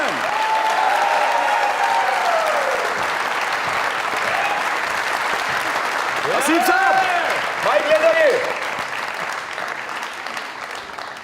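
Studio audience at a live comedy show claps steadily throughout, swelling near the end, while someone speaks over the applause and background music tones sound.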